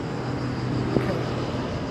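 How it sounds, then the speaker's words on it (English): A firefighting helicopter passes overhead during a wildfire near Athens, its engine and rotor making a steady, fairly close drone that holds for the whole stretch. "Oh, there's another helicopter."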